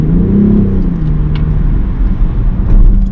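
A steady low engine drone fills the cabin of a BMW X6 M50d, a synthetic-sounding hum from the interior sound generator that rises slightly in pitch early on as the throttle is pressed, with no talking.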